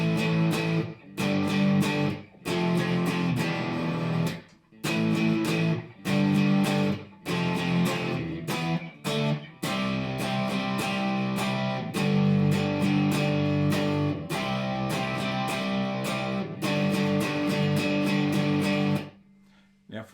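Slow electric guitar rhythm part from the last section of a surf instrumental, played alone in steady eighth-note chords with brief pauses between phrases, loud and close, ending abruptly.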